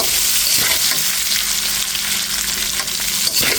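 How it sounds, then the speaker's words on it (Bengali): Potatoes frying in a pan with salt and turmeric give a steady, close, loud sizzle with light stirring scrapes throughout, and no voices. "আলুটা দিয়ে এই লবণ আর হলুদের ভিতরেই ভেজে নেব"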